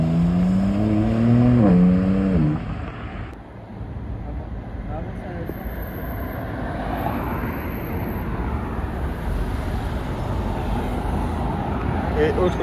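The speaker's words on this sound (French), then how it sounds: "GT2 qui s'en va." A Porsche GT2 sports car on a Saint-Tropez street pulls away with a loud, rising engine note that falls off as it recedes, followed by steady traffic rumble. A voice talks over the start.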